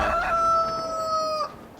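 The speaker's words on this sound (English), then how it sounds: "stupid chicken" A rooster crows once in a farming video game, a loud, sustained call lasting over a second that cuts off sharply, with nothing else around it.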